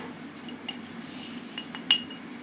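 A spoon gently mixes chili powder into fried okra in a metal pan, giving soft scraping and a few light clinks, one sharper ring near the end, against a quiet background.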